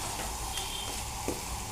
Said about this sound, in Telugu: ఇట్లా ఎల్లిపాయ కారం ఇట్లా ఉండలు లేకుండా మొత్తం ఇలా కలుపుకోవాలండి